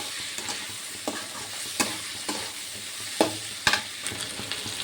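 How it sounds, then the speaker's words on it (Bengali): Fried potato and bitter gourd are stirred with ginger-garlic paste in a pan, giving a steady frying sizzle broken by scattered spatula scrapes and clinks, close and fairly loud, with no talking. "দিয়ে দেবো অল্প একটু আদা রসুন বাটা, আবার ভালো করে একটু নেড়ে নেবো"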